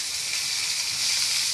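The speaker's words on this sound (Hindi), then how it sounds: "अब मैं इसमें प्याज डाल दूंगी" Onions sizzle and fry in hot oil with ginger and garlic, a steady close hiss with no break and no talking.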